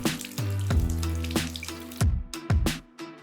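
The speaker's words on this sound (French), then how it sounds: "On rince." Dishes rinsed under a running kitchen tap after scrubbing with coconut soap and a sponge, a steady close rush of water with a few brief clinks of glassware, no voices.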